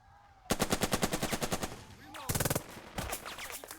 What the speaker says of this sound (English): Let's just hit him with a machine gun 4 times.